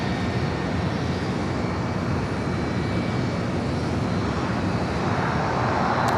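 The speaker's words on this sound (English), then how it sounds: "First A380 arrival of the day, Asiana." An Asiana Airbus A380 arriving at LAX makes a continuous, loud jet roar that stays even throughout and swells slightly near the end, with no voices.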